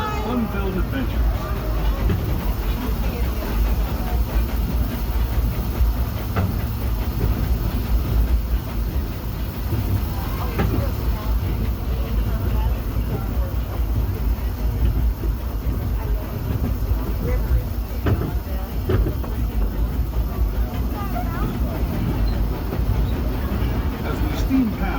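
The Disneyland Railroad steam train runs on its rails during a night ride, with a continuous low rumble and faint rail clatter under ongoing narration.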